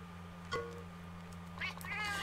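Cartoon cat meowing in the Nintendo 3DS game Monster Hunter Stories, a short meow followed by a longer chirpy mew over a steady low game hum.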